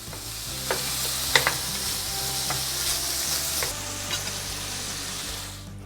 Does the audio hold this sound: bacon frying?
yes